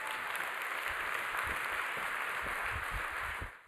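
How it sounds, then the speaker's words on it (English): Steady applause from a crowd at the ITU AI For Good Global Summit 2023, a dense wash of clapping that holds evenly for a few seconds before tapering off at the end. "Please, a round of applause for our video from António Guterres."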